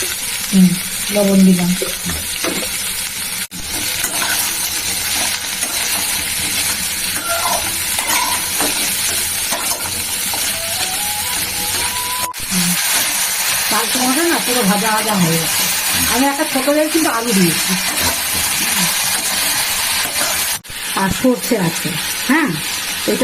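Ash gourd with a little turmeric sizzles and fries in a pan, a steady loud hiss with stirring, while someone talks over the cooking.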